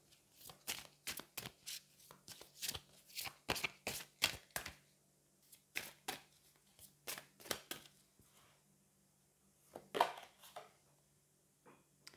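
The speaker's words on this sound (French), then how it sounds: "Je vais aller prendre une carte du Magic of You." Oracle cards from the Magic of You deck being shuffled by hand, a quiet run of crisp riffling flicks and slaps in uneven bursts with short pauses, close up and soft, with no voice.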